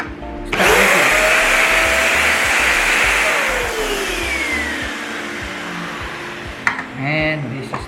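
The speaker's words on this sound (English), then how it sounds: "and then start vacuum." A Hetch standing vacuum cleaner starts with a sudden loud whine and runs steadily close by, its motor drone easing slightly before cutting off near the end, followed by a few brief handling clicks.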